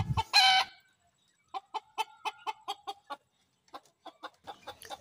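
Hens clucking while eating together, in a quick series of short, close calls, with a brief louder squawk at the start and quiet gaps between bursts.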